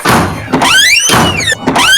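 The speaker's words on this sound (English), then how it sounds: "stop slamming the door" A door is slammed hard three times in about two seconds: loud, close thuds with squealing, sweeping tones between the impacts and no talking.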